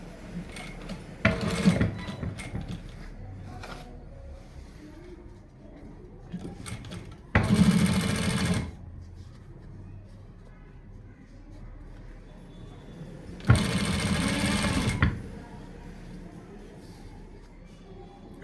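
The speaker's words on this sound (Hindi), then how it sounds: "इसके बाद इसको फाइनल सिलाई लगानी है ऊपर की।" A sewing machine runs a final line of top stitching on a shirt cuff in two short separate bursts, each about a second long and close by, with quiet handling noise between them.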